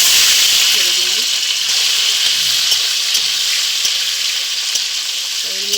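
Cleaned, cut jackfruit seeds fry in hot oil with cumin and three bay leaves, giving a loud, steady sizzle and bubbling hiss throughout, with faint clinks underneath.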